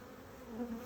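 Honeybees buzz steadily during a hive inspection as frames are handled and bees are shaken into the bottom of the hive, a close, continuous low hum that swells slightly partway through.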